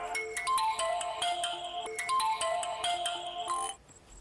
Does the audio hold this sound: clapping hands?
no